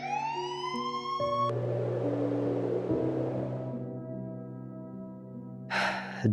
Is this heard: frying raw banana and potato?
no